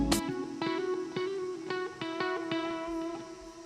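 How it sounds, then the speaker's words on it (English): Soloed electric guitar track under a fully wet tape delay: a handful of plucked notes ring out, each followed by evenly spaced repeating echoes that keep stacking across the passage at moderate level, with no one talking. "I'm going to go with tape delay."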